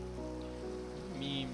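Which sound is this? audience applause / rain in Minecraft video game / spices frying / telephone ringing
rain in Minecraft video game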